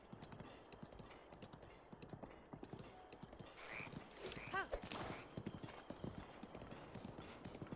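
Horse hooves clip-clop in a steady rapid rhythm as a horse gallops in the video game Breath of the Wild, with a brief neigh in the middle and faint talk underneath.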